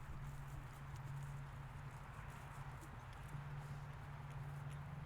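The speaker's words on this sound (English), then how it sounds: "Now you have a horse under your butt" A horse walks along during a riding lesson, its hooves clip-clopping in an even rhythm, faint and somewhat distant under a steady low hum.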